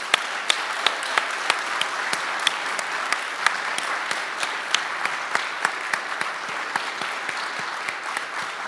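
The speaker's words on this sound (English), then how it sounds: "let me ask everyone to join in a round of applause for all of today's amazing speakers, and especially our trainees" A crowd at a memorial teach-in applauds the speakers and trainees with continuous, even clapping, a few sharper individual claps standing out above the steady patter.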